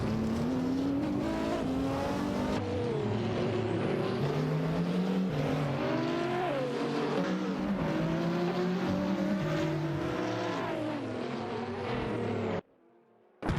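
GT3 race cars, including an RGT8 and a Nissan GT-R, roar through a racing video game with loud, continuous engine howls that shift pitch through gear changes, plus tire squeal, before the sound cuts out abruptly near the end.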